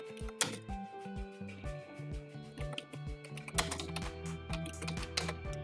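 Someone types on a computer keyboard, a quiet, close series of irregular key clicks with brief pauses and clustered bursts, and no talking.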